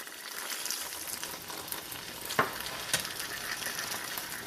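Soya sauce is added to broccoli Manchurian in a pan over a medium flame, setting off a loud, close, continuous sizzle with a couple of sharper clatters as the food is stirred.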